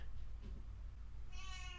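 A cat meows at the end in the video game OFF, a short drawn-out cry over a steady low background hum.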